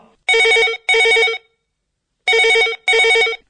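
A telephone rings during a Hindi-language farmers' call-in radio program, with four loud electronic ring bursts in two pairs and a long pause between the pairs, and no talking.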